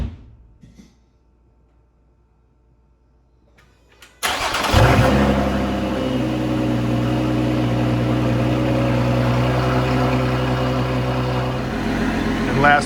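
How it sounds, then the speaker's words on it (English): A Lotus Emira fitted with an Eventuri carbon fiber intake cranks and fires up after a few seconds of near silence, then settles into a loud, steady idle with a slight rev near the end. "So I'm actually gonna start the car without the covers on just to make sure, check for leaks or anything like that"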